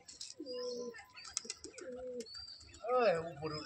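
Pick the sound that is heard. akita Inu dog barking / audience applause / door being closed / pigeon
pigeon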